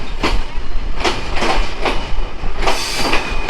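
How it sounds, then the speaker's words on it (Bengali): Chilahati Express passenger train entering platform one, line one at Joypurhat railway station, loud rolling rumble with regular clickety-clack wheel thumps and a brief squeal near the end, close by and continuous. "আমাদের চিলাহাটি এক্সপ্রেস ট্রেন এখন জয়পুরহাটের রেলওয়ে স্টেশনে এক নং প্ল্যাটফর্মের এক নং লাইনে প্রবেশ করলো"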